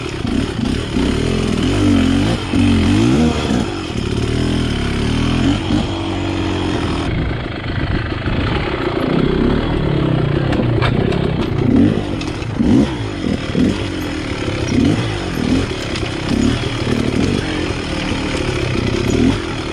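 Beta X-Trainer dirt bike engine pulling away with the clutch partly in, a loud buzzing two-stroke drone that rises and falls with throttle, close and continuous throughout.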